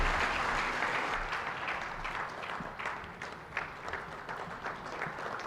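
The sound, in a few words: applause at SADC summit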